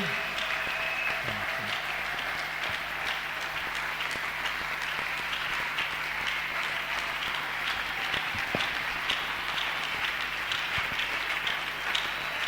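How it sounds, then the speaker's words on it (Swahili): Congregation clapping for the Lord during a French and Swahili church service, a long steady wash of dense applause filling the room, even in loudness throughout with no break. "Tunaweza kumchapia Bwana makofi."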